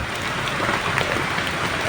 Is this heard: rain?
yes